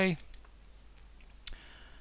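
A single sharp mouse click in Photoshop, pressing OK, comes after a brief spoken word and stands alone in a quiet room.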